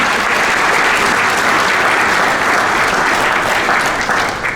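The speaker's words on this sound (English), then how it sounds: "I think they deserve a round of applause." A large audience at a Lancaster University graduation ceremony breaks into sustained, dense applause that fills the hall steadily and evenly for several seconds.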